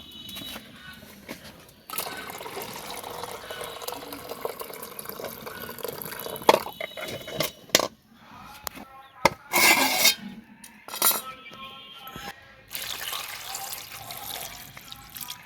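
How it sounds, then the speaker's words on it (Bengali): Water is poured off boiled potatoes in a village kitchen, with splashing and trickling bursts that start and stop, close and fairly soft, with no voices. "হয়ে গেল সিদ্ধ। এখন ওই যে পানিটা নিয়ে নেব"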